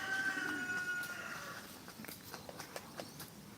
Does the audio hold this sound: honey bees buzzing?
no